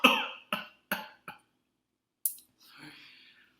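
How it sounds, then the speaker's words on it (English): Four sharp coughs in quick succession, then a short pause and a couple of softer breathy sounds, close and clear against silence. "How long have you been coughing?"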